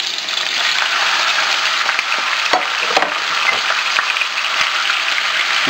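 Chicken pieces frying in a pan for pork and chicken adobo, a steady close sizzle with faint stirring scrapes and no talk.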